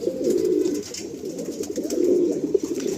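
Breeding pigeons coo inside a loft, soft rolling low calls repeating in overlapping phrases, close and fairly loud with no talk.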